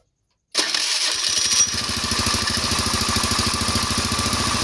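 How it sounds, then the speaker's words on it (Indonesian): After a moment of silence, the electric starter on a Honda Beat or Scoopy fuel-injected scooter whirs, then the engine catches into a steady, close, rhythmic idle putter during a starter test after repair. "Kita akan coba tes untuk starternya ya, apakah mau dia ngangkat ya."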